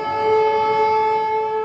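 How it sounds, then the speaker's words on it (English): An air raid siren sounds a warning of Russian aircraft near a nuclear power plant in southern Ukraine, a loud, steady wailing tone that holds for the whole stretch with no voices. "Very often they say the sirens are almost back to back."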